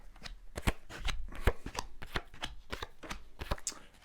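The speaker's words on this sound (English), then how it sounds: "I'm going to shuffle the cards and then just lay down your 10 cards on the table in front of me" Tarot cards shuffled on a table, a run of crisp riffling and flicking bursts in quick irregular rhythm, close and fairly quiet with no talking.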